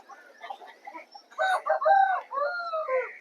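A rooster at a Vijayawada poultry market, one with white legs and white markings, lets out a clear crow after soft chatter, the call rising and stretching in a single near, moderately loud phrase.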